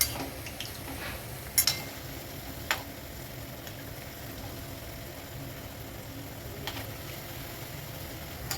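Spinach pakoras (palak bhaji) frying in hot oil over a medium gas flame, a steady close sizzle running throughout with a few sharp metallic clinks of a utensil against the pan, and no talking.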